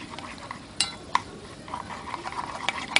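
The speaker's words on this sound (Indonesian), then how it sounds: "Lalu aku aduk." A pink candy slime mixture is stirred in a bowl, giving soft, wet swishing with a few sharp clinks of the utensil against the bowl, close and fairly quiet.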